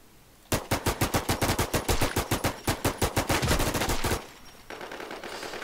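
Rapid automatic gunfire from a player's weapon in the zombie survival shooter Infestation The New Z, a long sustained burst of evenly spaced loud shots that stops abruptly, followed by quieter ambient game noise.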